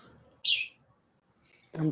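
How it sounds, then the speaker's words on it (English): Birds chirp outdoors in a brief bright burst, then another call rises near the end, with faint background noise between. "Oh, there's the birds."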